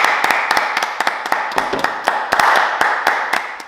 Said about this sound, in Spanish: Un aplauso, tío.